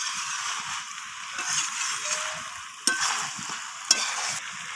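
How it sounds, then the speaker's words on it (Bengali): Goat meat and potato sautéing in a pan, a steady soft sizzle with scraping stir strokes and two sharp clinks of the spoon against the pan, no talking. "তো আবারও কষিয়ে নিচ্ছি এইভাবে। তো একটু হাতে সময় নিয়ে বেশ কিছুক্ষণ সময় ধরে এটাকে কষিয়ে নিতে হবে।"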